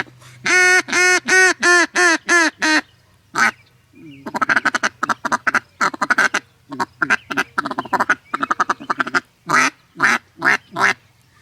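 A walnut duck call quacks in loud, raspy bursts: a descending series of honking quacks, then rapid chattering feeding calls and more quacks, close and alone.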